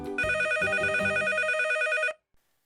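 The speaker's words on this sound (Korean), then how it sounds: "제 핸드폰 벨소리가 울려 퍼집니다." A mobile phone ringtone rings loudly and close for about two seconds, a bright repeating melodic tone that cuts off abruptly, with a faint click after.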